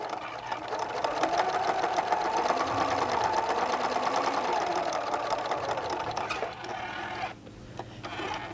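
A sewing machine top stitches the edge of a fabric pouch in one continuous close whirring run, then stops briefly before a short final burst.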